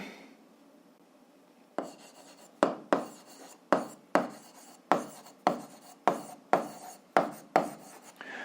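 Chalk or a marker writes on a board in a classroom setting, making a series of about a dozen sharp, rhythmic scratching strokes at a close, moderate level.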